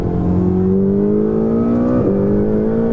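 A loud, sustained Ferrari 488 GT race car engine and exhaust roar heard from inside the car, its pitch climbing steadily, with a brief dip near the end like a gear change before rising again.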